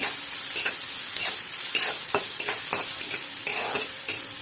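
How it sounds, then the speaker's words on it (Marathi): Onion sautéing in an iron kadhai for a peanut mhadya dish, a dense close sizzle broken by frequent scraping stirs of a spatula against the metal, with no voices. "कांदा लालसर होईपर्यंत जरा परतून घ्यावा"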